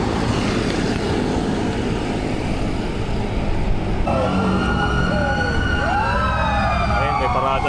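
Fire truck sirens from a New Year's fire brigade parade wail in overlapping rising and falling sweeps. They enter partway through over steady road and engine rumble, close and loud.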